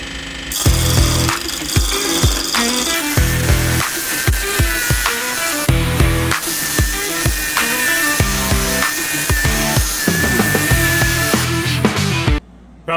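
A Woodstarter BWL1218 wood lathe chips at the edge of a spinning wood blank while rounding the stock, a loud close rhythmic scraping and clattering with a steady motor whine, stopping abruptly at the end.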